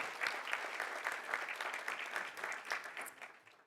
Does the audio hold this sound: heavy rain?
no